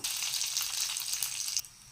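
Curry leaves hit hot oil with a loud, bright crackling sizzle that cuts off abruptly near the end, after dried red chillies were added, while cooking Kerala prawn curry.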